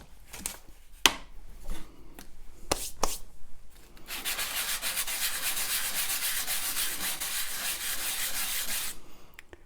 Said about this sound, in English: So I'm going to go back to my sandpaper.